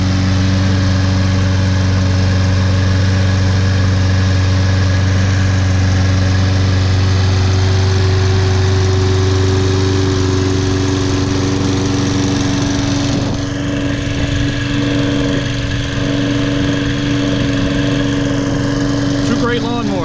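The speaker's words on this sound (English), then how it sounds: "Really a new condition lawnmower right there." A Toro Recycler Personal Pace lawn mower, model 20332, runs its engine steadily and loudly throughout, a constant close drone with a slight change in pitch partway through.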